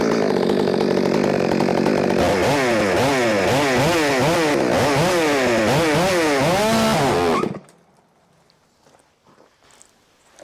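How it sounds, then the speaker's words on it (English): Gas-powered chainsaw cutting into a log, running loud and close with rhythmic surging bursts as the chain bites, then shutting off abruptly into near silence with faint handling noises. "What about a beast of a gas-powered saw?"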